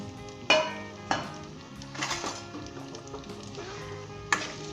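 Potatoes fry in oil over high heat with a steady, close sizzle, broken by a few sharp metallic clanks from a utensil stirring the pan.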